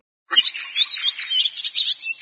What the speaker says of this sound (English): Icterine warbler.